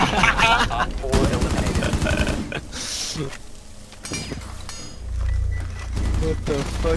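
Rapid automatic gunfire bursts crackle in Rainbow Six Siege, loud fusillades at the start followed by scattered shots and booms, with a player shouting over the action.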